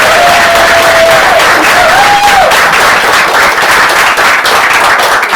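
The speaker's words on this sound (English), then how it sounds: "Let's give Cora another round of applause." Audience applause at an evening reading event, a dense sustained burst of clapping close and loud, with a brief whistle-like tone near the start.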